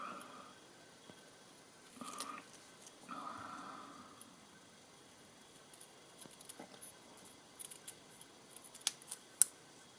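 Scissors snipping along the straight edges of a handmade Christmas card, a series of short, crisp cuts in quick succession that grow sharper toward the end, close by in a quiet room.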